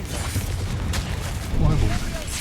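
Confringo fire-spell blasts in the Hogwarts Legacy video game: dense booming bursts and rumbling, with sharper hits around the middle, layered under a talking voice throughout.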